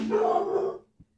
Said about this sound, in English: Oh, no, it's the dog.